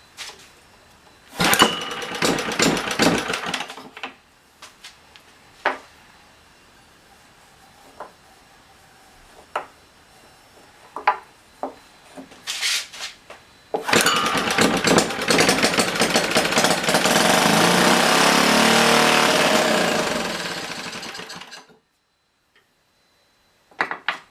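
A Clinton B700 small engine, just after a carburetor cleaning, is heard first as scattered ticks and clatters, then runs loudly and steadily for about seven seconds before cutting out to silence.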